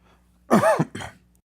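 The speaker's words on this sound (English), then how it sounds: "Sorry, I'm still coughing." Two harsh coughs close to the microphone, the first longer and rougher, the second shorter, with a throaty, voiced quality.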